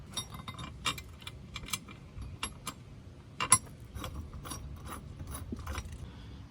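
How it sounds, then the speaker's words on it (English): A hand ratchet tightens the bolts of a harness bar in a C5 Corvette, giving rapid close clicking strokes in short irregular bursts without any talking. "I'm gonna get those tightened to where I think it's good"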